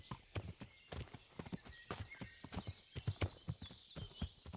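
Horse hooves clip-clop steadily at a walking pace in the medieval game Kingdom Come: Deliverance, with an occasional whinny and a light bird-like chirp layered over the rhythmic footfalls.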